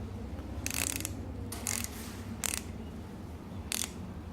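A ratchet tightens bolts on an 82-92 Camaro during a rebuild, giving four short bursts of quick clicking spaced about a second apart over a low steady background hum.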